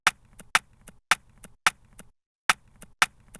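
A broken piece of hollow PVC pipe struck repeatedly, sharp knocking taps in quick pairs with short pauses, close and dry.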